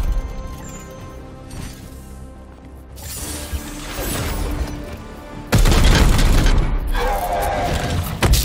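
Explosion in the video game Warhammer 40,000: Chaos Gate – Daemonhunters: clanking mechanical effects build up, then a sudden loud boom bursts in and rumbles on to the end.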